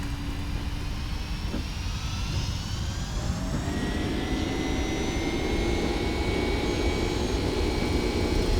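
Boeing 767 jet engines spooling up for a takeoff roll in the X-Plane flight simulator, a steady loud roar with rising whine tones that climb and hold as thrust builds, no voices.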